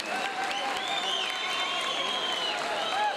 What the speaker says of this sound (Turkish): Bir alkış alabilir miyiz Duygu Koçak anlatan diye?